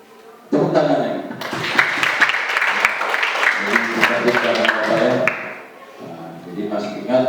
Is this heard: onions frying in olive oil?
no